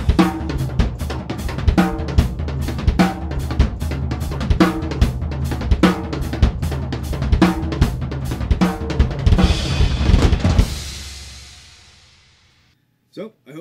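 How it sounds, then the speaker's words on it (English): Drum kit groove in 7/4 with the snare on beats 3 and 7: steady, close, loud hi-hat and kick pattern with crisp snare hits repeating over about ten seconds, ending in a crash that rings out and fades, with no talking. "So for this, I'm going to put snare drums on 3 and 7."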